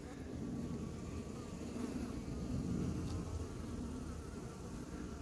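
Steady, faint buzzing of honeybees inside a horizontal trap bottle at an apiary fills the clip, a continuous low drone without pauses.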